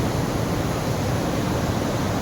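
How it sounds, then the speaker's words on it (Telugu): Water pours over rocks at a small waterfall in Nirmal district, making a steady, loud, hissing rush that fills the scene from nearby, with no talking. "నిర్మల్ డిస్టిక్లో ఇది చిన్న వాటర్ ఫాల్"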